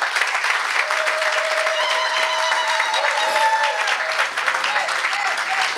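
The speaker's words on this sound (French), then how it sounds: "Est-ce que vous pouvez acclamer pour vous-même?" A church congregation applauds in a long, steady, loud wave of clapping that fills the room, with crowd voices and a few cheers mixed in.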